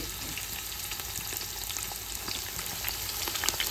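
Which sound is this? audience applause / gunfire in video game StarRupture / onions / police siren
onions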